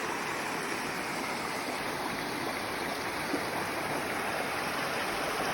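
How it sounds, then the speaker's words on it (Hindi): A small creek fed by a waterfall at Silver Falls State Park, Oregon, rushes steadily, a continuous broadband water roar heard close and without voices. "ये जो फॉल का पानी है वो इस तरीके से यहाँ पे जमा हो रहा है और एक पतली सी नदी या छोटी सी जो क्रीक होती है वो बन गई है"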